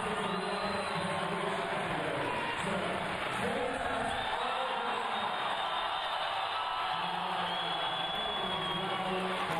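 A home crowd cheers and roars through an arena after a gold-medal win, a dense sustained wash of voices with swells and no single speaker standing out.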